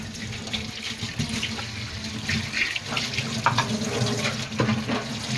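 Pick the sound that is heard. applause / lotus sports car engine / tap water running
tap water running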